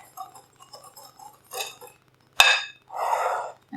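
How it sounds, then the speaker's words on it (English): A whisk clinks and scrapes against a bowl while mixing dry baking ingredients with a pinch of salt for banana loaves and muffins, in a few irregular light taps followed by louder brisk swishing bursts, close up. "I'm gonna give it a whisk"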